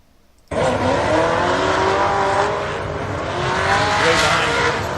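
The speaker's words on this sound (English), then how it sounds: "here's one of the qualifying runs from the number 3 car, which eventually was the winner at the race during the night" Number 3 race car on a qualifying run at LS Fest East, its engine roaring loud and steady after a sudden start, with tires squealing and a continuous high-revving drone throughout.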